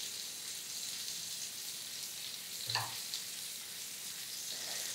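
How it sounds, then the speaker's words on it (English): Food sears in a hot pan on high heat during a vegan feast cook, a steady broadband sizzle running throughout with one brief louder crackle near the middle, no one talking. "And while that's searing and finishing off"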